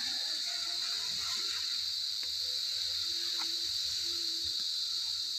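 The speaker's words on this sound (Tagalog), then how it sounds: "yan po yung tinig ng mga kuliglig" Crickets chirp steadily at Prayer Mountain, a continuous high, shrill drone that stays moderately loud and even throughout, with a few faint scattered clicks and no voices.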